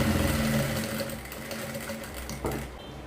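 A sewing machine stitches fabric in a fast, even mechanical whir with a rhythmic rattle, close and moderately loud, slowing and stopping near the end.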